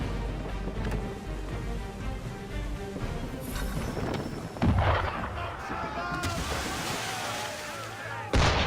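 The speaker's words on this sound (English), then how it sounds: "Why is he shooting at us?" Ship cannons boom in Assassin's Creed 3 Remastered, loud blasts with a heavy thump near the middle and another at the end, over steady rushing sea and rain-like noise with bursts of crackling spray.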